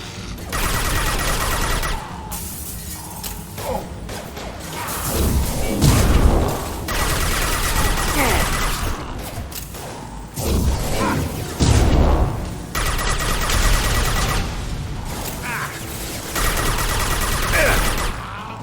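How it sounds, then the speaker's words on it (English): Sustained gunfire in the Mass Effect video game, with a concussive shot among the bursts. Loud, dense volleys and heavy thumping impacts continue throughout, with brief lulls between rapid exchanges. "Firing concussive shot!"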